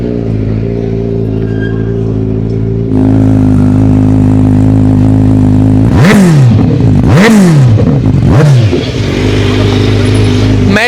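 A Benelli 600i superbike with an Akrapovic long-can full-system exhaust idles loudly up close with a deep steady drone. The engine then blips through several sharp revs that rise and fall quickly before it drops back to idle.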